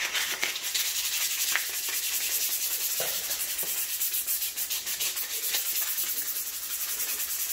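Rhythmic back-and-forth sanding rasps steadily across a painted surface to smooth out scratches in a ColorRite paint job, close and continuous with brief scuffs, no talking.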